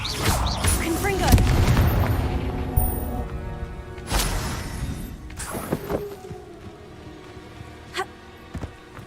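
Confringo spell blasts in the game Hogwarts Legacy: a loud explosive burst early, then further sharp bangs around the middle and a few quick cracks near the end, alongside someone talking.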